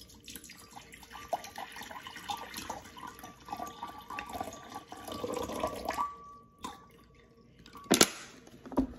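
Water poured into a bowl, a steady running, trickling stream for several seconds that stops abruptly, followed by a few faint drips and one brief splash near the end, with no talk.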